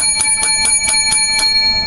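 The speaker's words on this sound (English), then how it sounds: "Seven bells for all of them." A bell rings out about seven times in steady rhythm over two seconds, its bright metallic tones ringing on between strikes, loud and close with no talking.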